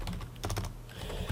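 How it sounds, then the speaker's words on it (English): Quick, close keystrokes patter on a computer keyboard in a short, irregular burst of clicks with no voices. "we're going to come in here and just type"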